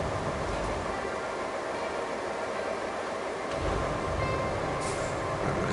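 A train in the construction video game Roadcraft rumbles along in a steady, dense wash of rolling noise with a few faint clanks, no voices over it.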